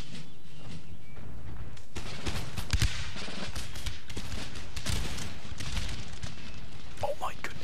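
Musket volleys ring out in Empire Total War as massed line infantry fire in a battle in Russia, producing dense, crackling bursts of gunfire under heavy talk.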